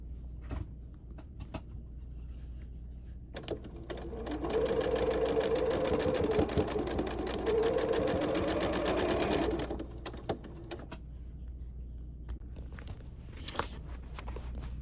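A sewing machine stitches fabric scraps for a Santa hat, running in one continuous, moderately loud whirring burst of about five seconds between quieter stretches of handling noise.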